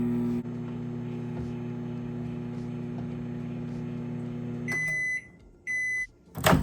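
Microwave oven humming steadily while heating oil in a thick bowl, a constant low drone that cuts off, followed by a series of high electronic beeps signaling the end of the cycle.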